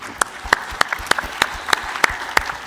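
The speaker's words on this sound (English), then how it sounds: "So let's give a round of applause to all three teams." Audience applause at an engineering summit, honouring three competing teams: a steady patter of many hands with sharp individual claps standing out at a fairly even pace throughout.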